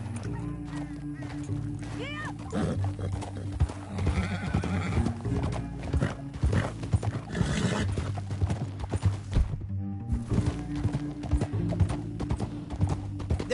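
Rhythmic hoofbeats pound steadily as a horse gallops in the video game Red Dead Redemption, with a loud whinny early on and a dense, busy backdrop throughout.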